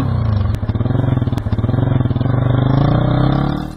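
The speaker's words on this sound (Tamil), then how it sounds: "ஏய் பைக் சவுண்ட் கேக்குதுல?" A motorcycle engine runs close by, its throbbing putter pulsing steadily, with a couple of sharp clanks near the start.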